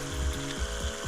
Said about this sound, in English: playing you the sound of these actual film motors